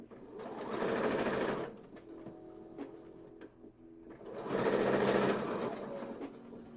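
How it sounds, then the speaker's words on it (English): A sewing machine sews a spellbag and backstitches at the middle. Two close bursts of whirring stitching are separated by a quieter pause with light handling clicks. "I'm back stitching at the middle because it's what I do."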